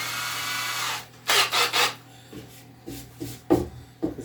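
A bit being swapped on a cordless drill in a woodworking shop while building a crosscut sled for a table saw: a brief steady whir, then a few short close bursts of chuck clicks and handling noise.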